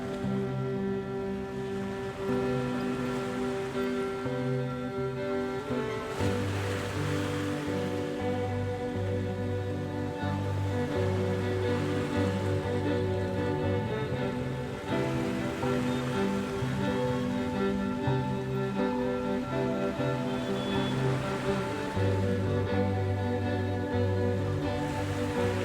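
Heavy unseasonal rain falling steadily in Akola, a broad continuous wash of drumming with no voices, while a droning hum with shifting tones runs underneath throughout.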